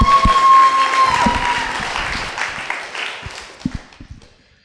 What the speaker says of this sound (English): Let's give them a random applause.